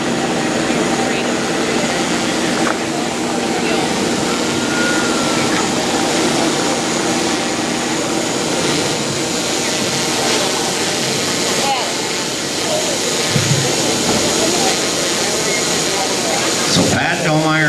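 A pulling tractor at a New Vienna, Iowa benefit tractor pull gives a steady, loud, broadband engine roar that runs the whole time, with crowd noise and some talk mixed in.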